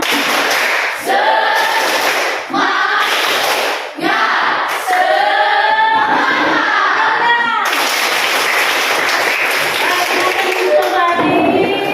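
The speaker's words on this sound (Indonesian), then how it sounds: "Lagi tepuk semangat." Schoolchildren in a classroom perform a rhythmic clapping routine, sharp bursts of claps alternating with chanted group voices in repeated patterns, loud and close throughout.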